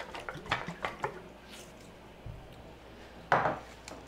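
Coconut fat is stirred together in a bowl for vegan ice cream, giving close, soft scrapes and light knocks in uneven bursts with quiet gaps between them and no talking.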